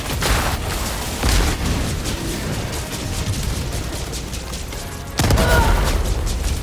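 A grenade blast in Helldivers 2 amid a dense barrage of booms and gunfire, with a sharp loud explosive burst near the end over continuous battle noise.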